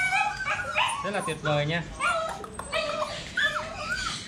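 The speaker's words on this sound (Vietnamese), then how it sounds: "Bầy chó 35 ngày nha các bạn." A litter of 35-day-old Phu Quoc puppies whimpers and yips in high, wavering cries close by, while someone talks over them.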